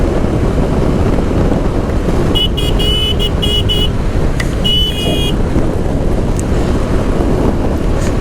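Strong wind buffets the microphone during a motorcycle ride in the rain, a loud constant rumbling roar throughout, with brief high horn-like tones from passing traffic.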